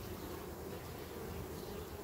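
Honey bees buzz densely and continuously at an opened beehive whose brood nest has become blocked with nectar, a close, even hum with no talk.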